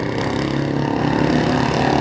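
A walking tractor engine with a stock 100cc single-cylinder motor runs loud and close at a walking tractor lane race in Phitsanulok, Thailand, giving a steady, rapid pulsing drone for two seconds.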